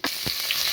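Cinnamon dropped into hot oil for spicy chicken biryani made with small onions, giving a short bright sizzle and crackle right up close, with a couple of quick stirring scrapes.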